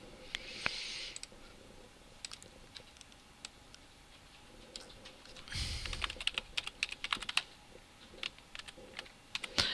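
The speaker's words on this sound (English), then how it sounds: "Would help if your keyboard actually does what you want." Typing on a computer keyboard sounds as quick, faint clicks in irregular bursts, with a brief louder rustle near the middle, close and quiet without talk.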